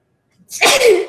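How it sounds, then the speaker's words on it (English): A single sharp human sneeze bursts out during a yoga class, loud and close, with a short breathy onset building into an explosive burst that fades quickly. "sneezing"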